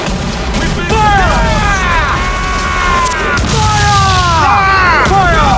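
Ship cannons in Assassin's Creed IV Black Flag let off loud booms, with crashes and a couple of big blasts close together. Voices shout over the cannon fire.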